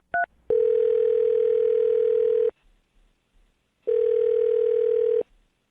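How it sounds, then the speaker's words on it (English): A telephone dial tone sounds as a number is called: a short two-tone blip, then a long steady tone for about two seconds, a pause with small clicks, and a second long tone of the same pitch, clear and close. "I'm going to dial her phone number right now."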